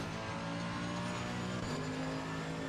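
A Lexus race car engine in Assetto Corsa Competizione revs steadily at a fairly low volume, a buzzing motor tone that shifts pitch slightly partway through.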